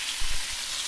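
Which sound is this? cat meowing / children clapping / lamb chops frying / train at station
lamb chops frying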